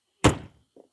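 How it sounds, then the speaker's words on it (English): A single solid thunk of a fifth-wheel RV door swinging shut close by, followed by a faint soft click a moment later. "And then shut your door,"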